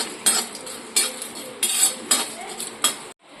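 Whole cumin and spices fry lightly in a pan over a lowered flame, with a steady soft hiss broken by repeated metallic scrapes and clinks of stirring, close and fairly loud.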